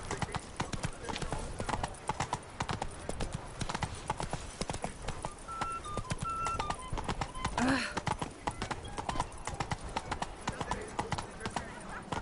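A horse gallops in The Witcher 3: Blood and Wine, a fast, steady clip-clop of hooves throughout with a brief neigh, while characters speak over it.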